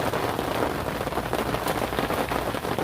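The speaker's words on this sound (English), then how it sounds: "It started to rain, so we had to move the table under our canopy." Steady rain patters on surfaces outdoors during a cookout over hot coals on a Weber Smokey Joe grill, a dense, even hiss with scattered drop ticks and no voices.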